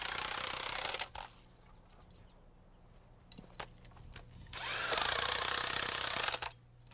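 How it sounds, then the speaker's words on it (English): An impact wrench tightens nuts onto bolts holding down mud sills on a house floor frame, two loud close bursts of rapid hammering with quiet clicks and handling in between. "I like to tighten them down with an impact wrench"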